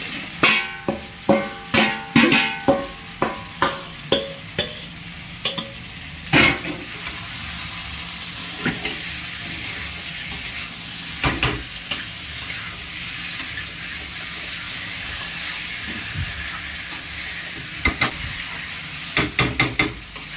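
Fried pointed gourd and potato being stirred into sizzling masala in a pan, with a run of sharp rhythmic stirring scrapes at first and later occasional knocks over a steady loud sizzle.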